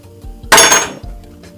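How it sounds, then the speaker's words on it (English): A metal meat hammer lands in a kitchen sink with one sharp clanging crash, ringing briefly before fading, with light clatter just before. "we're going to take this hammer and we're going to toss it in the sink."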